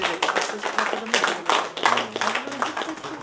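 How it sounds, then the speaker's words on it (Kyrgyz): Audience clapping at a Kyrgyz poetry and song evening, steady fairly loud applause lasting the whole moment, mixed with some voices in the hall. "Бир чоң кол чаап койсоңуздар."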